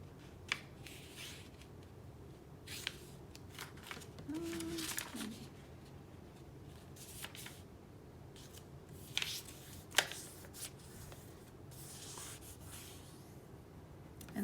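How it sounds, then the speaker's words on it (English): Origami paper being folded, creased and unfolded by hand, making soft intermittent rustles and crisp crinkles close by, with brief sharper creasing snaps scattered through and no talking. "now unfold it and then fold it diagonally the opposite direction"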